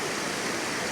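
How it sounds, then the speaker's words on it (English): Rushing river water crossing a route in the Scottish mountains, a steady broadband roar of flowing water, close and continuous for the whole second with no voices. "I'm having to cross a river."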